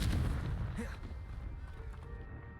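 A Confringo fire spell bursts in Hogwarts Legacy, a loud booming blast at the start that rumbles and fades over a couple of seconds under ambient game sound.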